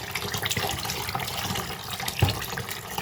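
Tap water running steadily into a sink while raw food is washed, with irregular splashes and a brief thump partway through, close and alone with no voices.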